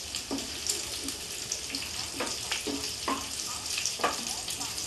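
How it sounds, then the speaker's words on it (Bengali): Cauliflower frying in oil in a pan, a close crackling sizzle with several sharp spatula scrapes and knocks against the pan. "ফুলকপিটা এইভাবে ভেজে ভেজে আমি লাল করে নিয়েছি"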